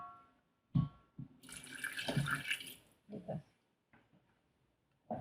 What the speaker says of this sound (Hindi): थोड़ा सा पानी ऐड करेंगे जिसमें हमारी सफेइयाँ भीग जाएं